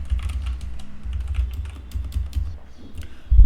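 Rapid clicking keystrokes on a computer keyboard sitting next to a HyperX SoloCast microphone, close and continuous with a soft thud at the end.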